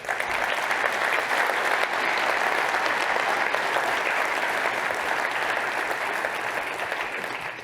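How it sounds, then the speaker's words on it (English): Large conference audience at a data community summit keynote applauding the speakers, a sustained, even roar of many hands clapping, loud and continuous, tapering slightly at the end. "please give them a huge round of applause"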